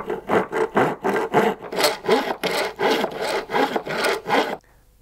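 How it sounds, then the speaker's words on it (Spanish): A hand saw cuts through a wooden board for a handmade toy, a close, loud, rhythmic rasp of about a dozen back-and-forth strokes that stops abruptly. "Y ahora cojo la sierra"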